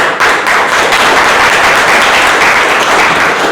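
Sustained applause from an audience at a Toastmasters meeting, loud and continuous clapping that blends into a dense wash of sound from start to finish.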